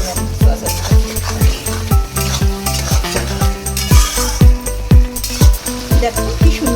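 Food sizzles loudly in a pan after a tablespoon of soy sauce goes in, with a spatula scraping and stirring in a quick, regular rhythm throughout, close up and with no voices.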